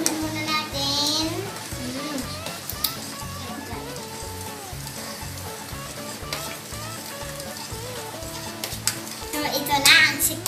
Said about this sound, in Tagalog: So, haluin muna natin.